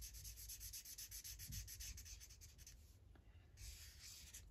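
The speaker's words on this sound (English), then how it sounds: "I also love that sound, the colouring in sound." Coloured pencil shading on transparent washi paper for a Christmas craft: a steady, soft scratchy rubbing in quick back-and-forth strokes, close and quiet, with no talking.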